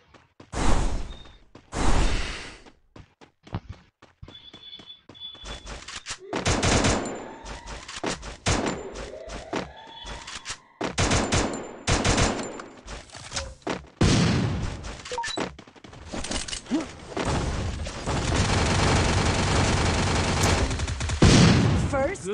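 Gunfire in the battle royale game Garena Free Fire, with loud bursts of automatic fire, single shots and thumping impacts coming in waves, and players talking over the action at times.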